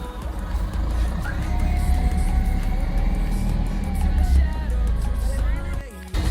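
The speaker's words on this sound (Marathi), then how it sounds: "तर ट्रॅफिक बघा इकडं ट्रॅफिक किती लागलेली आहे" A goods vehicle loaded with shop stock rolls through congested road traffic, its steady engine rumble running continuously with faint tonal horns from surrounding vehicles.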